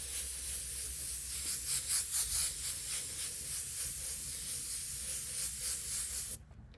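Spray gun laying light paint coats over a stencil, a soft steady hiss in short trigger bursts, close and faint, cutting off at the end.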